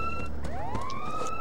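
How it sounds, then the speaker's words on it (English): A wailing alarm siren in the Mercenaries video game, its tone sweeping upward and holding steady, loud and continuous over a low rumbling game background. "Let me set off the alarm."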